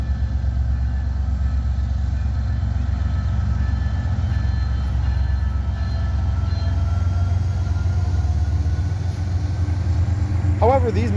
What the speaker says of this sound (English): We located a train sitting in Neenah siding that was taking off after CN 3233's train passed through.